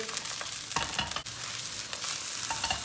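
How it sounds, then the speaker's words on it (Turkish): Eggplant sizzles and crackles as it fries in a pan, with occasional scraping and clinks of stirring. "Patlıcanlarımız kızardı."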